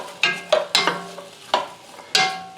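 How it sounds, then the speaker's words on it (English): Onions and celery being sautéed in a pan over medium-high heat for gumbo: several sharp clatters of a spoon stirring the vegetables over a soft, steady sizzle, close up with no talking. "We're going to heat that and saute those on medium-high, salt and pepper."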